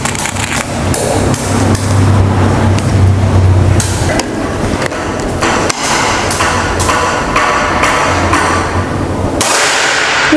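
Predator Yumaja air rifle fired in an accuracy test: a run of sharp, loud cracking shots at irregular intervals over about ten seconds, close to the listener, with a low background hum.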